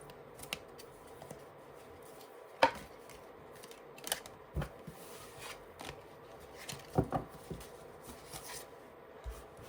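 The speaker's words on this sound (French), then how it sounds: "Je coupe le paquet." Playing cards being cut by hand, a handful of soft, brief taps and shuffles spaced apart against quiet room tone.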